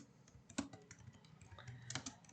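Computer keyboard keys clatter in quick, uneven bursts as Java code is typed, close and fairly quiet, with heavier keystrokes standing out among the rapid clicks and no voice over them.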